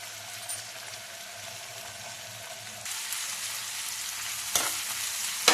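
Tomatoes being sautéed in a pan for karela bhaji, a steady close sizzle and frying hiss that grows louder partway through, with a sharp clatter near the end and no talking.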